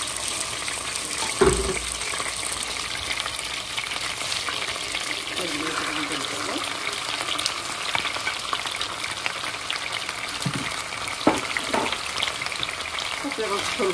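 Onion frying with chicken in a pan, a steady close sizzle throughout with a couple of sharp clinks from stirring.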